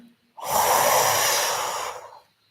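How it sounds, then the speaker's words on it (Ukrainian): A single long inhale drawn in through the mouth during a guided breathing exercise, loud, close and breathy, lasting about a second and a half with no talking over it. "Зробіть вдих через рот."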